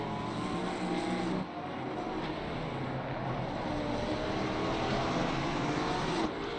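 Racing engine of a Ginetta GT car in Assetto Corsa Competizione during an endurance race at Barcelona, a steady, loud drone that runs throughout with a brief dip in level near the start.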